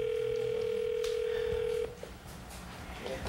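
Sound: telephone ringing on a long distance call

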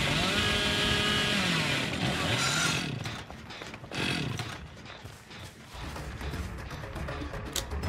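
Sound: chainsaw in Dead by Daylight video game

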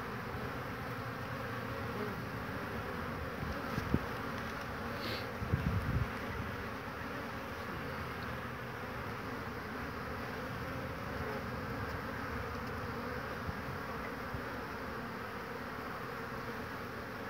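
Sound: honeybees buzzing around hive

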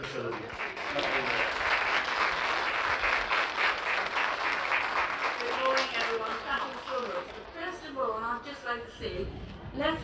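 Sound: audience applause at facility opening

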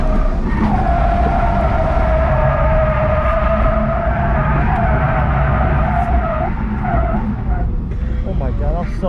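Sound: BMW E46 drifting on a track, tires spinning and skidding

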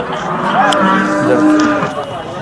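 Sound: cows at Sangola cattle market

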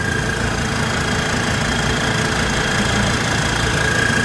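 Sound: five-cylinder turbo rice field tiller tractor engine running

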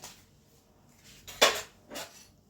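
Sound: metal bowl being placed into a pot

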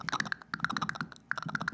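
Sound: computer keyboard typing sound effect

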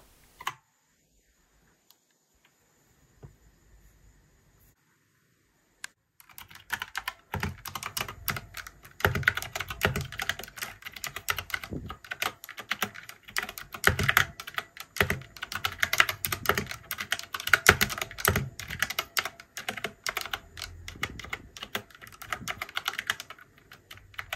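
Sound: typing on handmade UV resin keycap keyboard

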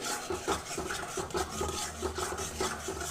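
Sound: stirring and frying spice paste (masala) in a pan

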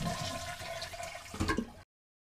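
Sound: Fluidmaster DuoFlush dual flush toilet flushing

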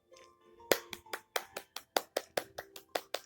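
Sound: applause in Township video game

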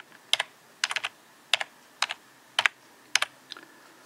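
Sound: typing username on a computer keyboard

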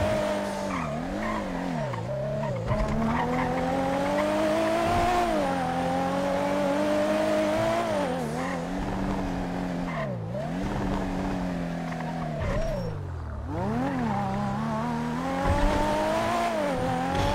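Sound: tuner car driving with tire squeals in GTA, a video game

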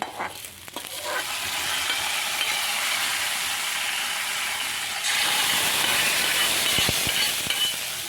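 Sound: fried onions and curry leaves poured into tomato curry, sizzling

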